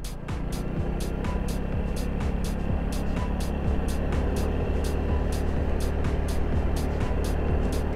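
A Vespa scooter rides along with an Atlas throttle lock holding the throttle, giving a steady, close engine drone with continuous wind rush and regular ticking clicks throughout.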